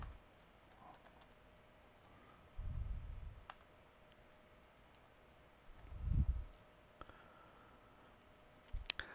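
Computer keyboard typing in short bursts of clicky keystrokes, a few separate clusters with quiet gaps between, close and fairly soft, with no talking.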